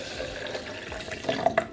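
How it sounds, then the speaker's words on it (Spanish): Water poured from a tap or jug into crepe batter in a home kitchen, a brief quiet trickle that builds to a few louder splashes near the end, heard up close with no talking. "Yo le añado el agua, ojo."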